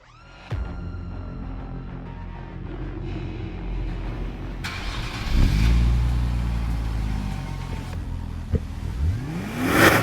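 A Nissan 400Z engine idles, then revs sharply several times, the pitch climbing and dropping between bursts, close by with no speech.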